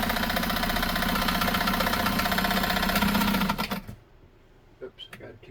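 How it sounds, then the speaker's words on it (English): A Nesco de Luxe push-button zigzag sewing machine stitches in a rapid, steady mechanical chatter for about four seconds, then stops, leaving a few faint clicks and quiet handling sounds. "sewing along a nice straight stitch"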